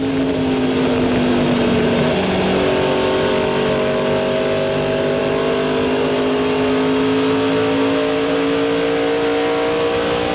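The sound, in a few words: race car accelerating out of a corner, 2000 Sam's Club 200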